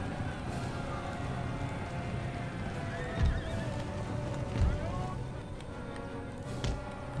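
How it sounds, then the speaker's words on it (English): Cavalry horses in an Empire: Total War battle neigh and whinny over a continuous clatter of hooves, with a few sharper thuds mixed in, while someone talks over the scene. "Use one of my units of cavalry to go after this horse unit"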